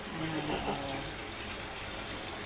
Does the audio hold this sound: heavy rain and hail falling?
no